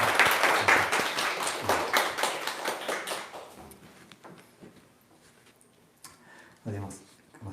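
A church congregation at a Sunday worship service claps together, loud scattered applause that tapers off over a few seconds, followed by quieter room sounds and a brief later burst.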